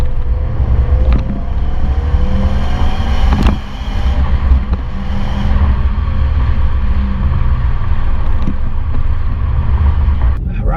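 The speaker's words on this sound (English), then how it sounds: "hopefully it's actually recording the exhaust" A Subaru STI with an Invidia exhaust drones on the road, a loud low rumble heard from inside the moving car with rising and falling tones as it pulls, mixed with wind and road noise throughout.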